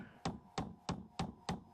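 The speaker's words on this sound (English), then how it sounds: "Started off with a small hammer," A small hammer raps a stuck extractor on a 1911 pistol with five sharp, evenly spaced taps, close and fairly quiet, no voices.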